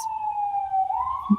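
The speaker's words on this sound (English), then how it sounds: "sorry about the sirens" A siren wails steadily in the distance, a single sustained tone that dips and rises slightly, with a faint thump near the end.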